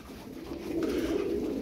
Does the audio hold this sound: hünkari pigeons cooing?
yes